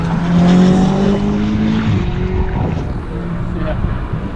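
A race car engine spooling up on the Daytona Speedway track during a track day, a loud, close rising engine note with strong low harmonics that swells early, then settles into a rougher roar.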